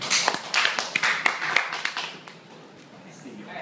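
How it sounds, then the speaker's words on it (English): A small student audience claps for a presenter, a brief burst of scattered hand claps at moderate distance that quickly thins out and stops, with a voice nearby. "Everybody give Kai a round of applause."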